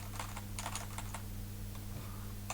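Rapid clicking keystrokes on a computer keyboard typing into an input field, in short irregular bursts over a steady low hum, close and fairly quiet, with no talking.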